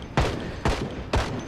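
Three sharp rifle shots from Project Zomboid, evenly spaced about half a second apart, loud and close with short decaying tails.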